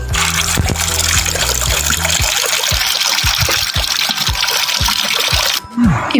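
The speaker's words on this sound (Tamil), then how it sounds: "பக்கெட்டில் தண்ணி நிறைஞ்சிட்ருக்கு." Water gushes steadily into a bucket filled for washing fridge racks, a loud, close, continuous splashing flow with a few low thumps and a brief gurgle near the end.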